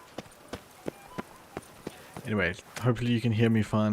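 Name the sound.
horse Roach's hooves clip-clopping in a video game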